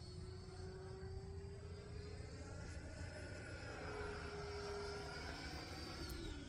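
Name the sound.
E-flite 90mm Viper RC jet airplane flying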